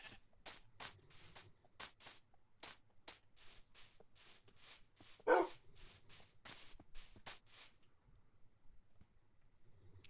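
A dog in the Minecraft video game barks repeatedly in short, evenly spaced bursts, clear and close, with a brief louder sound midway before the barks stop and near silence follows.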